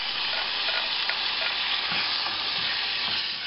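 Chopped tomato sizzles and crackles in a hot pan as it is stirred for a pancake sauce, a steady close frying hiss with no voices.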